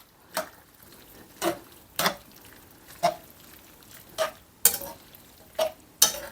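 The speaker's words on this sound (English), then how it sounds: "So we'll give that a mix around." A spoon works through cacio e pepe pasta in a creamy cheese sauce with black pepper, giving about nine sharp, regular clicks and scrapes against the pan, close and fairly quiet, with nothing else heard.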